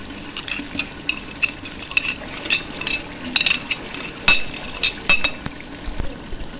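Biryani masala with tomatoes, red chilli, salt and crushed coriander being stirred in a pot, with a soft wet sizzle under repeated sharp scrapes and clinks of a spoon.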